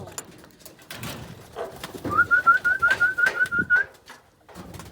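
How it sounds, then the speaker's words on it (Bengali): Pigeons at a pigeon farm during morning feeding, a run of rhythmic cooing and whistling calls close by, with wing flutters and shuffling around them, and no talk. "এখন এসেছি কবুতর ফার্মে কবুতরগুলোকে খাওয়া দেওয়ার জন্য"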